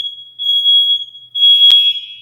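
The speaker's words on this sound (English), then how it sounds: "Okay, that's our fire alarm." A fire alarm sounds indoors with a loud, piercing high-pitched electronic tone, held for about a second, breaking briefly, then returning with a harsh burst; no talking.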